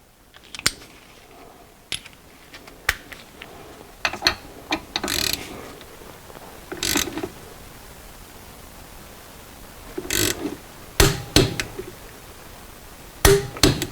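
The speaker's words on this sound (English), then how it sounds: "So now we're going to torque our caliper bolt." A torque wrench tightens a front brake caliper bolt on a Mercedes Sprinter van to 35 foot-pounds. The clip has scattered sharp mechanical clicks and ratcheting bursts with short pauses between them. No one speaks.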